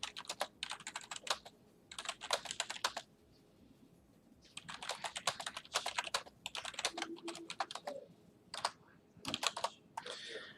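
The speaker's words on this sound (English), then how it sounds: "Yeah, I'm typing to my alliance. I'm typing to everybody." Computer keyboard typing while messaging an alliance in Marvel Strike Force comes in close, crisp bursts of rapid key clicks separated by short pauses. No one speaks.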